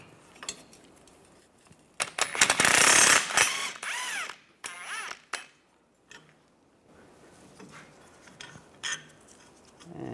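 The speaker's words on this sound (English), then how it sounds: "Now I'll take the 18mm socket, take this bolt out." A ratchet with an 18mm socket loosens a bolt at the rear trailing arm of a BMW X3, with bursts of rapid ratcheting and harsh metal clatter between quieter gaps, close and alone without speech.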